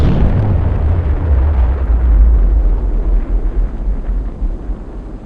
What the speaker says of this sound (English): Big bomb.